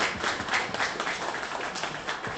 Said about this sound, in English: round of applause for ourselves